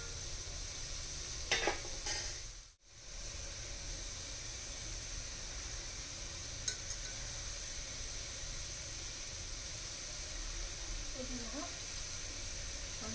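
Tomatoes and curry leaves sauté in a pan, giving a soft even sizzle and hiss throughout, with faint stirring scrapes, a brief dropout, and a quiet voice speaking in places.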